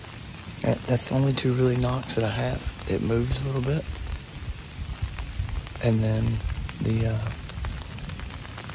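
Steady rain patters on a Muddy pop-up tree umbrella, a continuous close hiss running underneath someone talking throughout.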